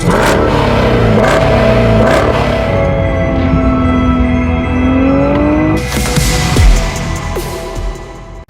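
A 2013 Chevy Camaro ZL1 with its LS V8 revs loudly and close up, the engine note sweeping up and settling back repeatedly, with a sharper burst of revving near the end; no one speaks.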